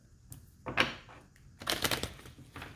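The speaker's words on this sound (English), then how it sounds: "I guess I can stop shuffling now." Tarot cards being shuffled by hand in short bursts, two brisk riffling flurries of papery slaps separated by quiet pauses, close and fairly soft, with no talking.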